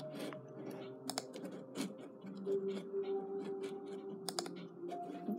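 Quick, light keyboard and mouse clicks come in irregular bursts during a Geometry Dash run, faint and close over soft game music.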